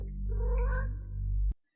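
A cat gives one drawn-out meow, close and fairly loud, lasting about a second and a half before cutting off cleanly.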